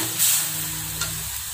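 Ground masala paste hitting hot oil with whole spices in a pan for butter chicken, giving a steady soft sizzle with light stirring scrapes, close and continuous.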